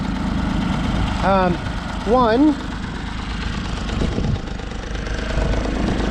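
The small engine of a John Deere 322 lawn tractor idles with a low, steady burble close by, while someone speaks briefly over it.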